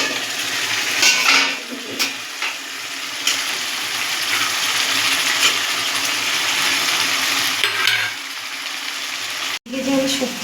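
Metal pot clatter and lid handling over a steady sizzle while taro greens cook, with a few sharp clanks near the end as grated coconut goes in.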